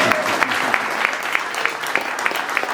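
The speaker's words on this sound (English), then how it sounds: "Now you can applaud." An audience applauds a tribute for the Selfridge Air Museum's 50th anniversary: brief, close clapping from a modest crowd, with sharp individual claps falling into a fairly regular rhythm.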